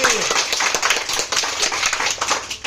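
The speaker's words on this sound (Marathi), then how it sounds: "5 बोटाने टाळी, 4 बोटाने टाळी, 3 बोटाने टाळी, 2 बोटाने टाळी, एका बोटाने टाळी" Rapid, continuous hand clapping, light and crisp, growing fuller as more fingers join in, one finger up to five, with a steady rhythm and a few voices underneath, during a classroom activity.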